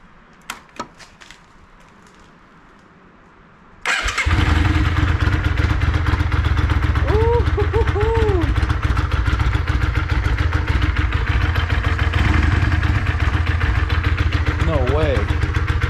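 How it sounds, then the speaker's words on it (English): Debaffled Yamaha Virago 535 motorcycle engine fires up after a few seconds of quiet clicks, then settles into a loud, close, throbbing idle with steady rumble; voices briefly exclaim over it. "We're gonna fire this bike up now, and I really hope it sounds good."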